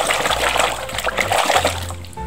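Water splashes and sloshes busily as a toy animal figure is scrubbed clean, with a low rumbling hum underneath and no talking.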